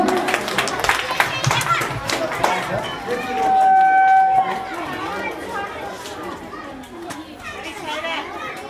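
A crowd at a talent show claps and cheers to welcome award presenters on stage, with children's voices and lively chatter mixed into the applause and a brief whistle tone partway through.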